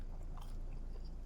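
Crunchy bite into pizza in a first-person horror game, Fears to Fathom: Carson House, a close, crisp chewing crunch over a steady low background hum.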